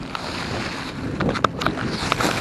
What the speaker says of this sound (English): we're going to be dealing with a lot of wind today